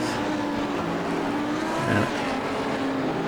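GT3 race cars roar past at Zolder in iRacing, a loud sustained engine drone with a brief swell as one car sweeps by, no voices over it.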